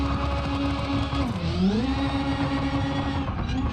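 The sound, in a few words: car engine sounds in video game BeamNG.drive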